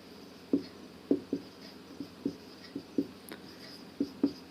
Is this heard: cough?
no